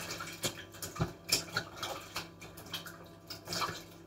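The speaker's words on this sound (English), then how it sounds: "Give my hands a little rinse" Hands rinsed under running tap water while baking currant buns in a kitchen, a faint irregular splashing and trickling with small drips and knocks, close by and quiet, no talking.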